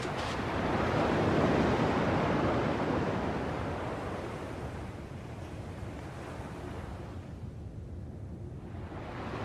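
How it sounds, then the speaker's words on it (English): Ocean waves in the game Kingdom Hearts, a broad, rushing surf that swells loudly at first, then recedes into a softer, steady wash with a windy hiss and no talk. "At least the waves sound the same."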